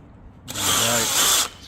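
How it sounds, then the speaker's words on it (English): A power drill drives a screw into the arch saddle of a tunnelhouse frame in one steady whirring burst of about a second, close and loud, rising from quiet and cutting off abruptly. "Screw goes in"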